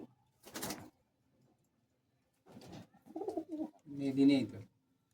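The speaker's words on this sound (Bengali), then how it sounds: "ওলা অনেক পায়রা দেখেছেন এই পায়রাটা দেখুন" Pigeons coo at a loft where flying pigeons are kept, with a brief burst near the start and lower throaty calls later, close and moderately loud, alongside faint movement noises.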